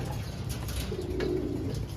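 A pigeon from a racing loft coos softly once, near and moderately quiet against a steady outdoor background.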